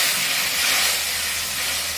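Water poured into a hot pan of shukto curry sets off a loud, broad, continuous steam hiss that fills the whole moment close up.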